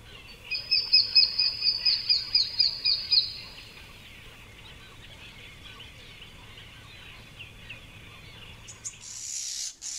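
Starlings call among tree branches in the Volga Delta, a rapid run of loud, repeated shrill notes for a few seconds, then quieter chattering and rustling in the background.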